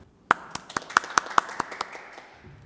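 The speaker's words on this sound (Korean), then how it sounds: "이현애 대표이사님 박수로 환영하여 주시기 바랍니다" About ten evenly spaced, crisp hand claps ring out at a women's employment forum in Incheon as the foundation's chief executive is welcomed, fading quickly into a quiet room.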